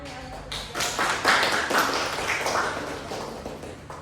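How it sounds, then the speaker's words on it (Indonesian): Brief scattered applause from a classroom of students, several people clapping unevenly for a few seconds before it thins out, heard fairly close with faint room noise and a little talk mixed in. "Beri tepuk tangan ya untuk dia"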